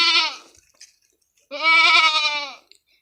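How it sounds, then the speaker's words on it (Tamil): A goat in labour on a farm lets out two loud, drawn-out bleats, close by, separated by a second or so of quiet. "இந்த ஆடு பார்த்திங்கன்னா காலையிலேருந்தே வந்து ரொம்ப ட்ரை பண்ணிகிட்ருக்குங்க குட்டி போடுறதுக்கு"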